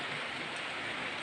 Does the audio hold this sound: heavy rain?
yes